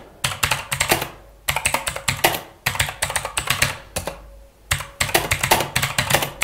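Someone types a paragraph of comment text into Python code on a computer keyboard, producing rapid bursts of sharp, close key clicks separated by short pauses.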